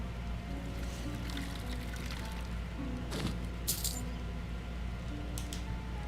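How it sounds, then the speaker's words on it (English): Water being poured to fill up supplies in the video game Skyrim, a steady trickling stream running throughout over a low game ambience, with a few bright splashy spurts partway through. "Every time I hear that noise of when they're filling up the water, it sounds like they're peeing."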